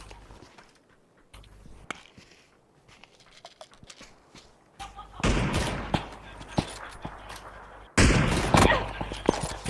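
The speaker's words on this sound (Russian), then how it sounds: "Слышали, с берега еще пацаны стреляют" Gunfire in the battle royale game PUBG, with sharp shots cracking out sporadically and then in dense loud bursts during the second half, some sounding near, over faint background noise.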